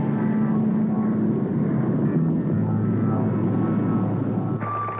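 An aerobatic propeller airplane drones steadily overhead, a loud, even engine hum with a shifting pitch that drops partway through as the aircraft maneuvers; no voices are heard.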